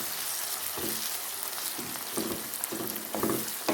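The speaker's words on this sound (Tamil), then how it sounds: "அதையும் இதோட சேர்த்து நீங்கள் வதக்கி கொள்ளுங்க" Sliced tomato and capsicum sautéing in a pan for a Sri Lankan-style chicken devilled dish, a soft continuous fry with a few distinct stirring scrapes toward the end, quiet and without speech.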